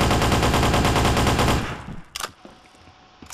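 Rapid automatic gunfire in the Trouble in Terrorist Town game, a loud continuous burst of shots lasting about a second and a half, then a couple of sharp single clicks and quiet room tone.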